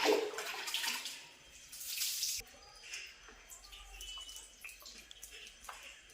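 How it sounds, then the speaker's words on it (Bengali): Warm water is poured during a bath, a splashing gush for the first couple of seconds that drops to quieter trickles and drips, with faint voices in the background. "জল দিতে হবে তো আমি জল দিই"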